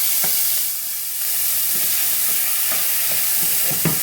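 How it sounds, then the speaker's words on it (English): Onions and shallots sautéing in a pan over low heat, a steady, fairly loud hiss of frying with occasional soft utensil knocks, no talking. "And then I'm gonna add my onions. I have the heat on low, which is like 4."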